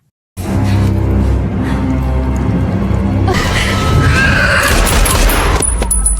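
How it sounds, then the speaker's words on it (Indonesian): Gunfire in a film scene, a loud continuous barrage of shots with booming low end that builds into a denser burst midway and runs throughout. "Emily kembali menembak Alpha dan kali ini Alpha berhasil dilumpuhkan"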